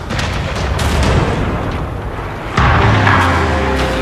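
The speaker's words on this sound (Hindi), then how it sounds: "लगातार तोपें दागते हुए" Cannons fire continuously in a stage play about the Ahom army battling the Mughals, loud booming blasts rolling over one another with a sharper, heavier burst partway through.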